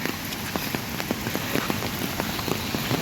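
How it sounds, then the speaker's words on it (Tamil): Light rain falling during a hillside trek in Munnar, a steady close patter of drops on surfaces with scattered sharper taps, alone with no talk. "இவ்வளோ நேரம் அப்படியே மழை சார் அப்படியே லைட்டாக சாரல் அடிச்சுன்னு"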